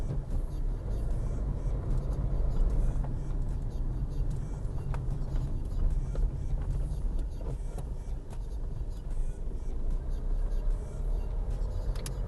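A 2004 Ford Fiesta 1.4 TDCi diesel car on the move, giving a steady low rumble of engine and road noise that runs throughout with no clear pauses, close and fairly loud from inside the cabin.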